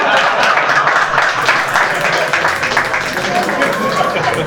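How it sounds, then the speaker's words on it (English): An audience claps at a corporate reunion event, a steady wash of applause filling the hall with some crowd voices mixed in. "People should clap to that."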